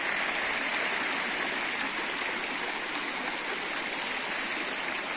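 Water in a farm stream rushes steadily past, a constant close broadband gush and babble without pause and with no talking.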